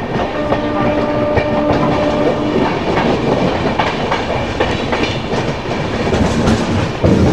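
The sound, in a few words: Samaleswari Express train departing Santragachi station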